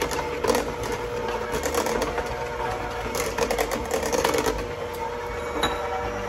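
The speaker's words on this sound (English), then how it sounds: "So now you add another teaspoon of vanilla. In that goes. Gonna mix that up." An electric mixer whirs through carrot cake frosting after a teaspoon of vanilla goes in. A steady, close, mechanical buzz with a rattling texture runs throughout, with no talking.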